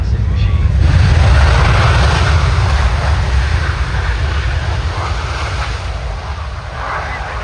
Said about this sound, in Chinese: 澳洲空军最大的运输机全球霸王，使用反向推力，把超过200多吨机身在最短的距离内停下来